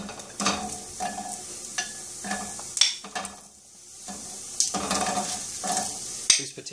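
Radish and onion cook in a hot, oil-free pan, stirred in rhythmic bursts of scraping and sizzle with a few sharp utensil clinks, close up and without any voices.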